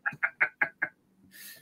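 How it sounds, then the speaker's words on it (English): Chickens clucking nearby, five quick evenly spaced clucks in a row, followed by a brief rustling hiss. "I'm seeing the chickens running across the screen."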